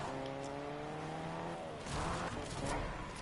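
A car drives in a video game, its engine droning with a steady tonal whine that shifts, then rougher rumbling and tire noise swell near the end, fairly loud and close with no talk.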